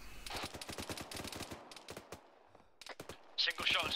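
Rapid gunfire in ArmA 3 during a joint military operation, bursts of sharp close shots in quick succession that pause briefly and then resume, with voices talking in between.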